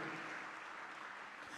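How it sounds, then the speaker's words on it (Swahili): Church congregation clapping and cheering in a steady, dense wash of applause throughout, at moderate distance with no clear voices rising above it. "ungempigia Bwana makofi mengi ya shangwe"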